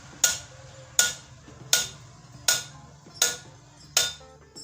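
A metal ground rod is driven into the earth while installing a grounding wire. Six hard, ringing hammer blows land at a slow, regular pace, each decaying before the next, close by with a quiet background.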